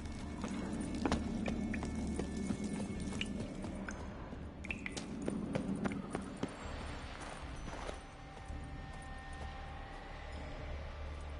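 Hooves of the horse Roach clip-clop at a walking pace in The Witcher 3, fairly soft under layered game ambience, with scattered squishy and clinking effects.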